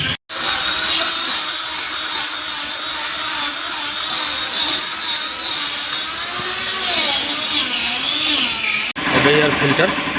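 A steady, loud whirring of a power tool tightening bolts on the bucket clamp of a CAT 320 D3 GC excavator, running almost without a break and cutting off briefly near the end as a voice is heard.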